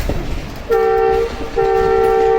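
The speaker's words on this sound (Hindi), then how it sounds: "जो नारोवाल पैसेंजर है वो जा रही है।" A Narowal passenger train goes by, sounding two loud, sustained horn blasts over a rumbling rail background, the second blast following a short gap.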